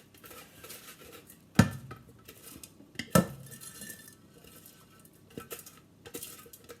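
A spatula scrapes and knocks crushed ice inside a Thermomix TM6 mixing jug, with two sharp clunks and rattling, gritty scraping between them, close and moderately loud.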